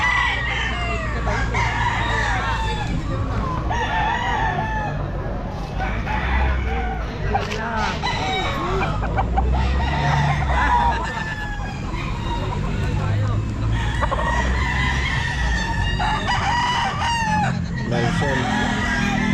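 A young rooster (stag) crows repeatedly at a busy pet market, loud and close, among other fowl clucking, people talking and passing traffic.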